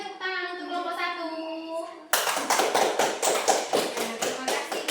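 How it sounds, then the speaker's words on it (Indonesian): Classroom applause for a student group, starting abruptly after a voice speaks, with many hands clapping in a fast, dense, fairly close burst that keeps going. "beri tepuk tangan untuk kelompok 1."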